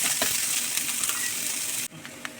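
Garlic sizzles hard in a hot pan, a loud bright frying hiss with scraping stirs, then drops abruptly to a softer sizzle with a few small clinks.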